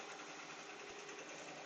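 An embroidery machine stitching jackets hums in a continuous, even mechanical whir, faint and uniform throughout.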